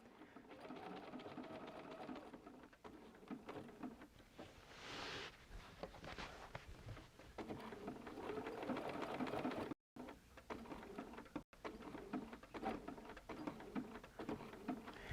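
A sewing machine stitching around the curve of a modern appliqué art quilt, running steadily in a fast, even patter with brief stops, close and fairly quiet, and no voices.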